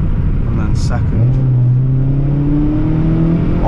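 Suzuki Swift Sport with a Sprint Booster pulling through second gear, a steady droning engine note that rises gradually in pitch as it accelerates, heard from inside the car with a brief faint voice early on.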